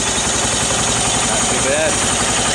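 An engine cranks and turns over on a cold start in chilly weather near freezing, a loud rough rhythmic churning that continues throughout with a faint voice underneath.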